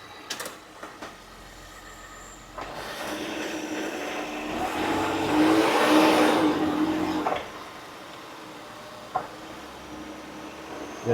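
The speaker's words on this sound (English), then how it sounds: "So go ahead, Zach, go ahead and start it up" A car engine starts and runs smoothly on a lift with its wheels spinning; a whirring drone swells, holds for several seconds, then falls away, with a few clicks at either end.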